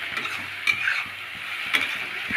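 Salted chopped onions sizzle in a wok while a spatula stirs them, rhythmic scraping strokes and light clacks over a constant close frying hiss.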